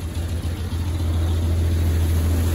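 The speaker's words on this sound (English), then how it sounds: "It's actually idling pretty good," A 1981 Chevy C20 pickup truck engine idles steadily and close by, a strong low rumble holding an even, continuous drone with no speech over it.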